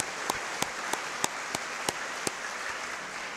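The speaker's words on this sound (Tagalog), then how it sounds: "Bigyan natin ating mahal na Panginoon isa pa malakas na palakpak." Sparse, distinct claps from a church congregation at a Simbang Gabi Mass ring out one at a time at an even pace against a soft background hiss, about eight in all.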